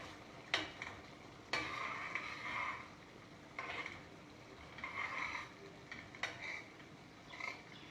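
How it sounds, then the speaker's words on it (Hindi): A spoon stirs a dish in a pan after garam masala has been added, giving intermittent scraping strokes with soft sizzling underneath, quiet and close, with no voices. "तो अच्छे से मिक्स कर लीजिए।"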